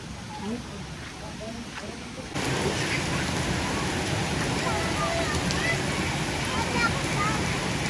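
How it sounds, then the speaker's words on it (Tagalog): Heavy rain pours down at a waterfall in Narra, Palawan, in a dense, steady roar that grows louder partway through, with no voices over it. "umuulan, ang lakas ng ulan"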